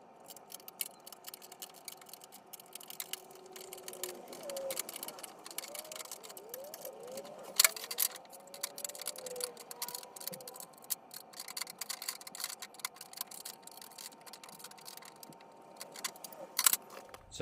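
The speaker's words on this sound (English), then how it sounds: "Let's unbolt it." A part is unbolted in a workshop with quiet, close metallic ticks and clicks from a wrench, irregular and continuous, with a few sharper clanks and a faint voice murmuring in the background.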